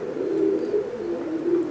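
Imported Teddy pigeons coo in a steady, low rolling murmur, the soft calls overlapping continuously close by with no talking.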